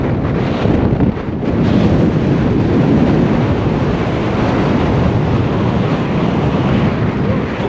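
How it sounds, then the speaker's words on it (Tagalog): Strong wind roars across frozen Abraham Lake in winter, a loud, steady buffeting that batters the microphone throughout with no talk over it. "Ayan, grabe hangin."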